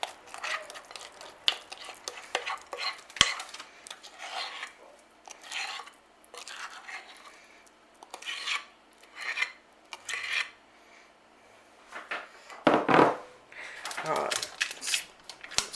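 Chocolate brownie mix is scraped and spread into an oven dish with bursts of rasping strokes and pauses, while a person talks over it.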